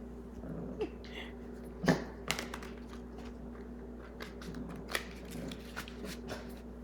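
Tarot-style cards drawn from a deck in a quiet room: a few soft, scattered shuffling and sliding clicks, one louder snap near the start, over a steady low hum, with no talk.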